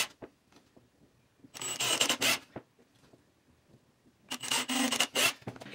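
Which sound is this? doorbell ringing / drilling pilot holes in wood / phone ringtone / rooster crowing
drilling pilot holes in wood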